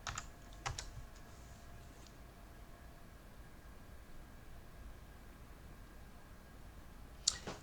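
A few soft keystrokes on a computer keyboard as a password is entered on an HP EliteDesk 800, clustered at the start with one sharper click near the end, over a quiet room hum.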